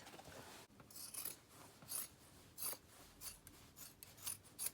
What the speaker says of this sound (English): what I am going to do now is cut off the pants legs